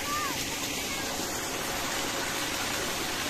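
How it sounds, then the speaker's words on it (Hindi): Water flows and falls in a forest stream, making a steady, close rushing wash that continues unbroken throughout. "इधर से भी पानी गिर रहा है"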